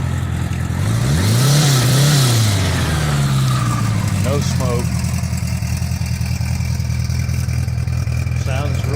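A 1976 Honda Goldwing motorcycle engine runs close by, rising briefly in a couple of revs before settling into a steady, even idle throughout, with someone talking briefly over it.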